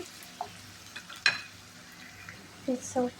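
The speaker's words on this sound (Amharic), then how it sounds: "ሽንኩርታችንን በደንብ ጥብስ አደርገዋለሁ ማለት ነው" Chopped onions fry in a pan with a soft, steady sizzle, broken by a few brief clinks and stirring sounds, and a voice speaks briefly over the cooking.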